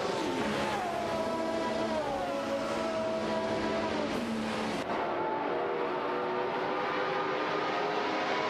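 Race car engines in a racing video game rise in pitch as the cars pull away, a continuous roar that holds steady, then drops off sharply before a quieter stretch of engine noise carries on.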